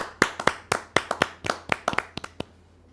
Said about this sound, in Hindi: जोरदार ताली के साथ हम स्वागत करें अवधेश तिवारी जी का